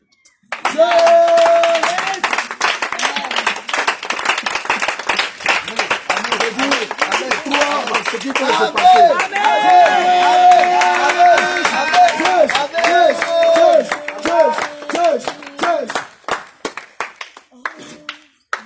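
A church congregation at an intense healing prayer night claps and cheers in a dense, loud wave of rhythmic clapping, with voices and music tones mixed in throughout.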